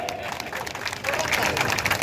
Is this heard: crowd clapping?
yes